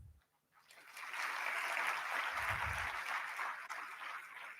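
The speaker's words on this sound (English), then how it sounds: "Let's welcome him with a big round of applause." A round of applause from the audience at a college pre-placement talk, a sustained broad wash of clapping that starts after a brief quiet moment and carries on steadily to the end, with a low thump partway through.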